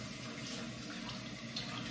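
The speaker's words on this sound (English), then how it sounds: "Let's get some water into this brush" Tap water runs steadily into a sink to wet a shaving brush, a soft continuous hiss and splash heard close and alone.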